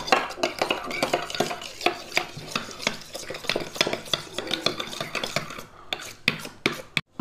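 A spoon mixing a fenugreek face cream paste in a small bowl, with rapid scraping and clinking strokes against the sides that slow into a few separate taps near the end.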